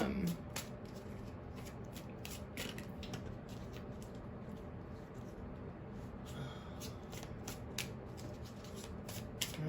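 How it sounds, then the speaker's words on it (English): Soft, rapid riffling and slapping of tarot cards being shuffled close by, in repeated quick bursts over a quiet background. "Let's do one more shuffle."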